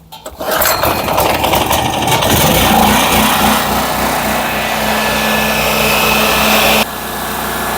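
Gasoline generator running under load, a loud steady mechanical drone with a buzzing whine that holds close and constant, dropping slightly in level near the end.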